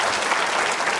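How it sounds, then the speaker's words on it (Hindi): A brief burst of steady audience applause at a Ramadan special quiz show, dense, even clapping from a seated crowd. "तालियां जोरों से बजाइए इनके लिए आप"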